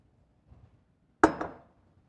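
A pot of water set down on a home kitchen stove gives one sharp metallic clank with a short ringing decay, preceded by a few faint soft knocks, with no voices.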